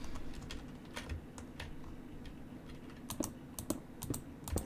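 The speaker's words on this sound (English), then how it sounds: "you can hear the clicking of my mouse more frequently" A computer mouse clicks in quick, irregular bursts at a desk during a building game session, sharp close taps over a steady low background hum with no talking.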